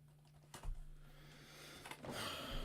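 Computer keyboard typing during a live stock-market stream, with a few scattered key clicks followed by a denser burst of keystrokes near the end, fairly close over a low background hum.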